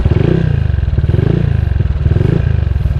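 An old, tired motorcycle with 76,000 km on the odometer idling close up after being hand-started, a steady rapid engine putter with mechanical clatter and no voices.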